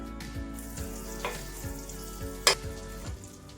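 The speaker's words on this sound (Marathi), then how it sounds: "बटर वरती असं पाव आपण शेकून घेणार" Pav bread toasts in butter on a hot pan with a soft, steady sizzle, while a low hum runs underneath and a single sharp clink sounds partway through.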